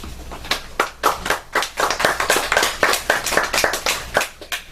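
Audience applause at a poetry reading in a bookstore, a lively burst of many hands clapping, fairly close and steady for several seconds before tapering off.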